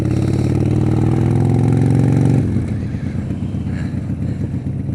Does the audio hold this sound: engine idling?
yes